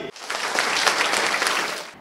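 Students at a school quiz programme clap loudly together in a sudden, full burst of applause that stays steady for about two seconds before stopping abruptly.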